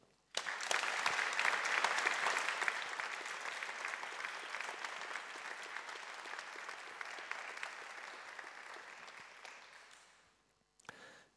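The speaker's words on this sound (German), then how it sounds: "Ein großer Applaus für euch." Sustained applause from an audience at a German award ceremony for student prizes, a dense wash of clapping that swells early, holds steady for about ten seconds, then fades out with a last brief burst.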